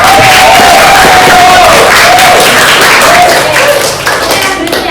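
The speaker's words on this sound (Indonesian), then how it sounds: "Pintar sekali, tepuk tangan dong Mbak Bajika." Classroom of students clapping for a classmate in a crafts lesson, loud, close and dense applause with some cheering voices mixed in, sustained throughout before easing slightly at the end.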